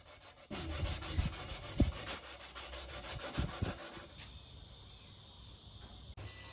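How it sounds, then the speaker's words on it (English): Sandpaper rubbing back and forth over a hardwood bath caddy part to remove burn marks, a steady close scratchy rasp with a few louder strokes, easing off toward the end. "Burn marks are common on hardwood, but these are easily sanded off for a great finish."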